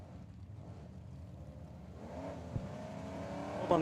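A battleship gray Camaro revs at Tucson Dragway during a drag race, its engine a steady low roar that builds and grows louder toward the end, with a sharp rising whine in the last moments.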